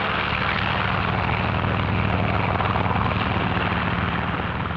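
Control planes take off from an aircraft carrier, their engines roaring as a loud, steady, unbroken drone that fills the whole stretch with no voices.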